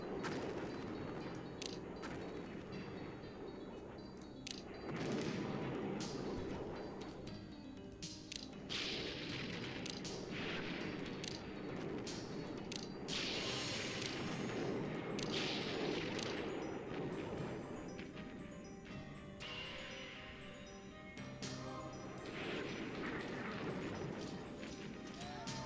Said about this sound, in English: Another enemy airstrike, of course.